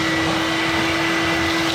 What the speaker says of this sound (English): we're gonna suck all the mess that we can get out of this liner up